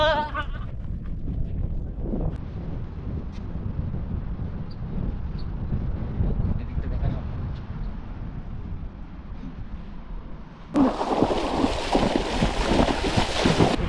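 Ocean waves wash onto Bakkhali beach in a continuous broad rush, with wind buffeting the microphone and a sudden louder surge of breaking surf near the end.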